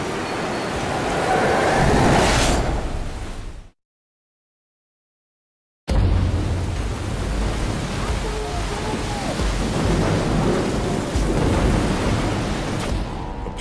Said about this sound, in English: Caught in a storm off the coast of Africa, searching for a new sea route to the east.